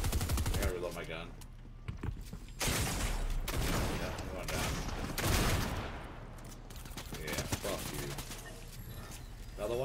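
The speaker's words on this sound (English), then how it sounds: "I gotta reload my gun." Rapid bursts of video game gunfire, fusillades and machine-gun-like volleys, crackle loudly through a stream while a voice talks over much of the action.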